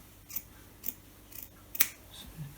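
Scissors snip through knitted stranded colorwork fabric to open a steek in a baby blanket, making about five quiet, close, irregularly spaced cuts.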